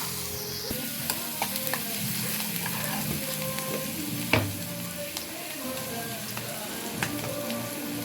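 Onion frying in a pan with a pinch of salt gives a steady, close sizzle, broken by a few sharp clicks and scrapes of a spoon against the pan, with no talking.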